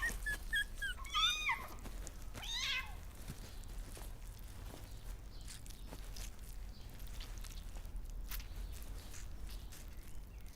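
Puppy whimpering in a few short, high, faint whines and yips near the start, then quieter shuffling and light movement against a low background rumble.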